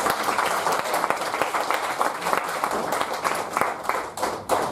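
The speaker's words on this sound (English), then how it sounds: "A big round of applause for." Audience applause for a newly Distinguished Toastmaster at a club awards meeting, a steady mid-level patter of many hands clapping, with individual claps standing out near the microphone throughout.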